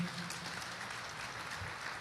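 A church congregation claps together in a dense, continuous wash of applause that holds steady throughout.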